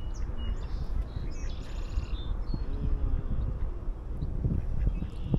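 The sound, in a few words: ducks calling outdoors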